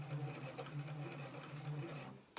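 A sewing machine stitching fabric for a face mask, running steadily with a fast close whirring hum before stopping abruptly at the end.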